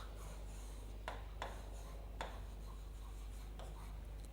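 Chalk or marker scratches across a classroom board in short separate strokes, four or five quick taps and scrapes over a steady low hum, with no talking.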